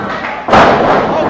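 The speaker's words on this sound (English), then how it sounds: "good suplex by Corey" A wrestler hits the ring mat hard in a suplex during a professional wrestling match, one loud thud with crowd noise and a commentator talking over it.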